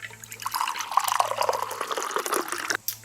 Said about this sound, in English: I filled up my giant 1 litre Frank Green bottle